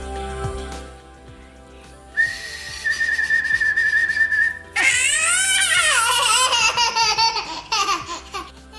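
A child's toy whistle blown in a home toddler play space, first a long steady high tone, then a burst of warbling, wavering whistle blasts that fill the rest of the clip, loud and close, with playful child sounds around it.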